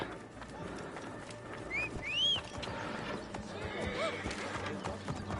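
Horse whinnying twice in the streets of Alexandria in Assassin's Creed Origins, rising squeals mid-clip over a dense game background of crowd noise and hoofbeats, with a fainter call near the end.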